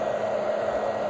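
A hair dryer blows steadily at close range while the ends of the hair are bent over it, a constant loud whirring rush with no talking.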